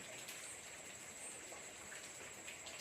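Heavy rain shower falling as a steady, dense hiss of drops, fairly faint and distant, continuous and even throughout with no voices.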